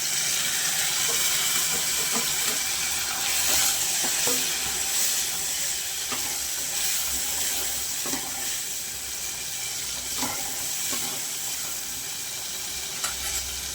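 Onions and tomatoes cooking in a pan for a broad bean and tomato curry, with a continuous loud sizzle, irregular stirring scrapes and clinks throughout and a watery hiss beneath.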